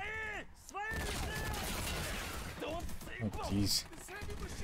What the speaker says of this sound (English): I would just hide here until the gunfire dies down.